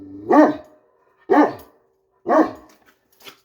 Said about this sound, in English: Please, stop barking. Why are you barking at me?